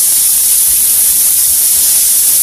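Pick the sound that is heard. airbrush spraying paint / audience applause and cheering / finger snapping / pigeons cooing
airbrush spraying paint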